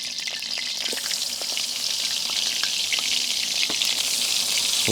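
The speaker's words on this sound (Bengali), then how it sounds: "গরম তেলে মাছ ভেজে নিতে হবে" Fish pieces rubbed with salt, turmeric and chilli frying in hot oil in a village kitchen, a dense constant sizzle up close with occasional sharp spits and pops, no voices.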